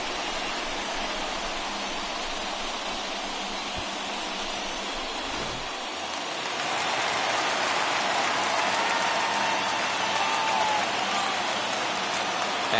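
Crowd at a Major League Baseball game between the Twins and Brewers cheering after an RBI base hit, a dense, steady wash of noise that swells louder midway, with no clear talking.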